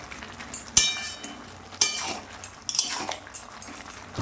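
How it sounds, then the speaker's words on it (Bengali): A spoon stirring prawn and spinach curry in a pan, three distinct metallic clinks and scrapes against the pan spaced about a second apart, close and fairly loud over a quiet background. "1 মিনিট পর আবার নেড়ে দিলাম।"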